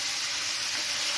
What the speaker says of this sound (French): on va commencer à faire revenir la moitié de la viande pour bien la colorer